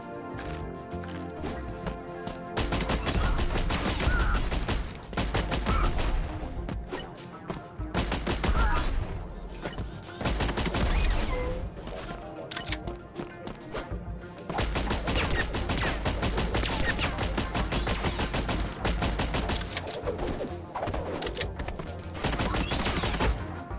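Repeated gunfire from an M16-style rifle in a video game, with long sustained bursts of rapid automatic shots separated by brief pauses, loud and dense throughout.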